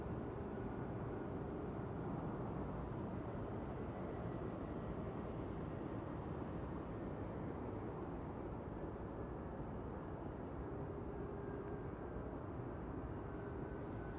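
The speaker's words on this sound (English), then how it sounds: "Oh, airplane overhead." A fixed-wing airplane passes overhead at Amsterdam Schiphol Airport, a steady, broad engine roar that holds evenly and fairly distantly for the whole stretch, with no talking.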